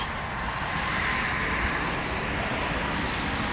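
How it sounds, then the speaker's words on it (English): A Volaris airliner inbound from Guadalajara on approach to DFW Airport, its engines a steady, broad roar that holds level throughout without any talk over it. "here comes this Volaris flight"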